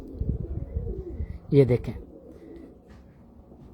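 A golden pigeon on a rooftop in Muscat, Oman gives a short burst of cooing, close and clear, in the middle of a man's speech.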